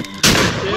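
A single loud, close gunshot in the video game Friday the 13th, a sudden sharp blast with a sustained noisy tail, alone without talk.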